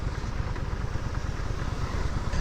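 A steady, rough motorcycle engine drone at low speed with a rapid low knocking rattle running throughout, close and continuous.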